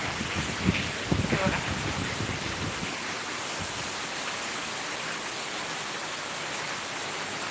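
Heavy monsoon rain in Mumbai pouring down as floodwater enters a house, a loud steady rushing wash throughout, with a brief burst of splashing and knocks early on and a person talking over it.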